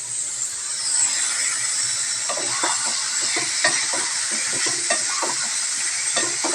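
Thick curry gravy fries in a pan, giving a steady bright sizzle while a spatula scrapes and stirs in quick rhythmic strokes, close and alone.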